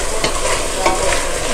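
Food frying in a pan, a steady, loud sizzle with stirring scrapes running throughout, no voices.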